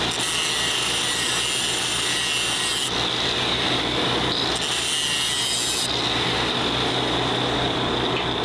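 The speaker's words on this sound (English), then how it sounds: "Cut a link, the link in between the hook and the chain." A saw cuts through a steel chain link between the hook and chain on a skid steer winch line during a heavy dozer rescue, steady loud rasping strokes running continuously throughout.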